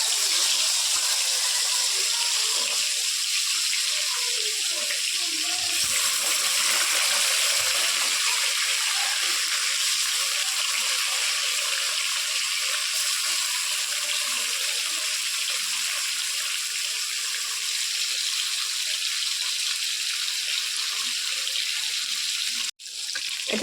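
Boriola fish pieces sizzle in hot oil in a wok, a steady, dense hiss that holds evenly throughout with no voices.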